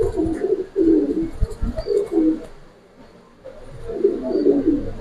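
Racing pigeons coo in low, throaty, repeated bursts close by, several birds overlapping with a short lull midway, set against soft background noise.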